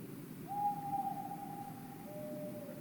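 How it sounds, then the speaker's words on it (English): A single drawn-out owl hoot, clear and fairly close, holds steady over a quiet night background before trailing off. "she tried her best impression of an owl, and hooted a few hollow meows"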